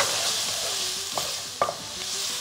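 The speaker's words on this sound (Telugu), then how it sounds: "పచ్చిమిరపకాయలు కొంచెం వేగని." Green chillies and onions fry in a pan with a bright continuous sizzle, punctuated by a couple of soft stirring knocks, close and fairly loud with no talking.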